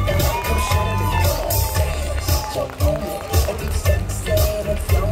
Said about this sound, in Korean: 우리 선수에게 뜨거운 박수 부탁드리겠습니다